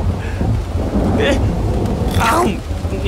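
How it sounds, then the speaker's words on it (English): Steady heavy rain mixed with low thunder rumbling through a cartoon scene, loud and continuous, with brief sharper sounds breaking over the downpour. "With the rain and the thunder, I want to sleep."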